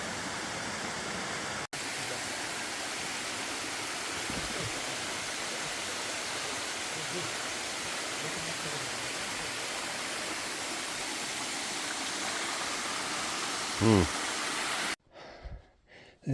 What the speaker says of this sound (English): Nice little waterfall on the climb up.